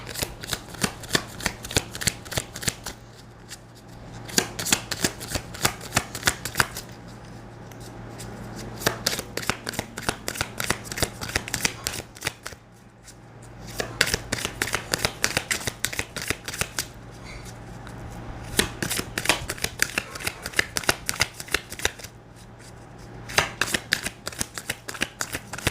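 Tarot cards are shuffled by hand close up in repeated bursts of rapid riffling flutter, separated by short pauses, at a soft, quiet level.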